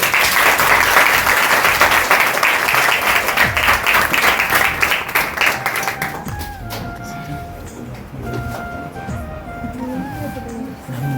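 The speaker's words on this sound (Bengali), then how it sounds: "সবাইকে বলবো জুড়ে একটা হাততালি হবে।" A crowd at a 2024 school science award ceremony applauds loudly with dense, sustained clapping for about six seconds. The clapping then thins out and fades into quieter room sound with faint voices.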